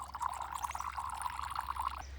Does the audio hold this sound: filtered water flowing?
yes